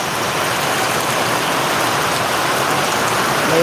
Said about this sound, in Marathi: भरपूर पाऊस आहे